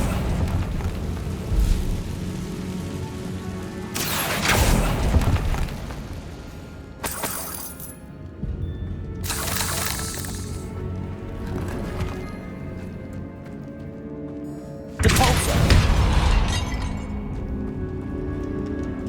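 Magical fire blasts from a Confringo spell go off in Hogwarts Legacy. Several loud, sharp bursts come one after another, spaced a few seconds apart, over a rumbling background.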